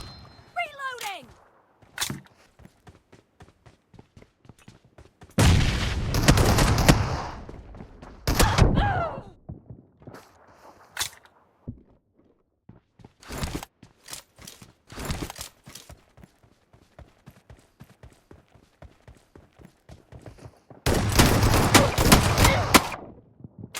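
S12K shotgun fire in a shooting video game arrives in loud, sharp bursts of rapid blasts between sparse single shots and quiet clicks, with game voice lines heard in between.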